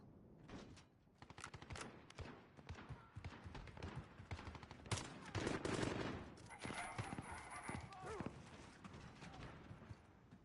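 Rapid gunfire bursts in the video game Modern Warfare, dense automatic shots crackling almost continuously near and loud, with game sounds and other tones layered in the later part.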